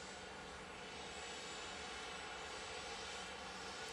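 A TUI airliner departing Manchester Airport gives a steady, broad jet-engine roar. It is loud and sustained, with no voices over it.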